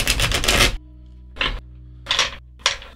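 A 78-card tarot deck is shuffled in close, loud bursts of riffling card noise, one long run followed by three shorter ones with brief pauses between them.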